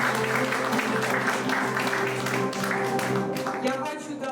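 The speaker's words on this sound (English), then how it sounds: "Applause from the hall for you." An audience in a hall applauds steadily for about four seconds, a full, even patter of many hands that fades slightly at the end, with faint voices underneath.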